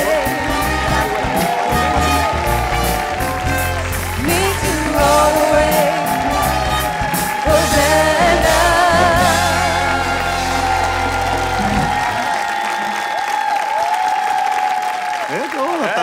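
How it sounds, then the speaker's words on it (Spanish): A studio audience on a Mexican comedy show breaks into loud applause mixed with cheering, whoops and shouts, with music and voices running underneath; the din stays dense for about twelve seconds before the low end drops away. "Fuerte el aplauso para Carolina Sepúlveda y Estefanía Gómez."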